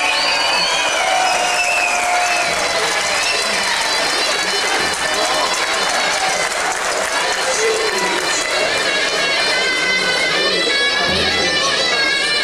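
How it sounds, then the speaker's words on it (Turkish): A concert audience claps continuously, with Turkish folk music from Van playing over the steady applause. "Alkışlarınızla."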